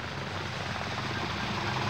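A Cessna 180 floatplane flying overhead above Quebec lake country, a steady droning engine and propeller roar that holds even and fairly loud throughout, with no voices.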